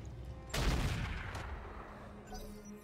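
Mech weapons fire in RogueTech, a sudden loud broadband burst that swells and holds for about a second, then trails off into a rumbling decay, with a fainter second burst near the end.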